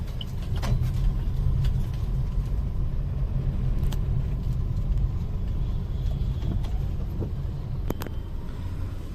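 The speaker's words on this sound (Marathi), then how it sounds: "खूप ट्रॅफिक आहे" Traffic on a congested market road in Navi Mumbai, heard from inside a moving car, with a steady low engine rumble and road noise and occasional faint clicks and distant horns, and no talking.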